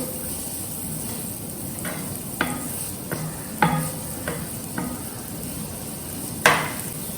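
Finely chopped ingredients sauté in a pan with a low, steady sizzle, punctuated by several distinct knocks and scrapes of a spoon stirring against the pan, for a paneer sauce made without onion or garlic.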